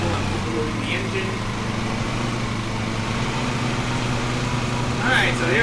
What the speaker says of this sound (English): Careful, I'm overloading the engine.